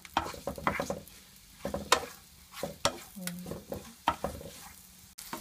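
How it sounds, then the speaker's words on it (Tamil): Mushroom gravy ingredients frying in oil in a pan, with bursts of sizzling and stirring scrapes that come and go, moderately close. "இந்த எண்ணெய் இதிலையே போட்டு ஃப்ரை பண்ண போகிறோம். நல்லா வதங்க ஒரு 2 நிமிஷம் வதங்கிட்டு"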